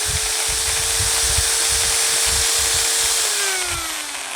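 An electric drill, powered through an alternator-based generator setup, whines at a steady pitch under a loud rhythmic chugging hum, then slows as its power is disconnected, the tone sliding downward while the overall sound fades slightly.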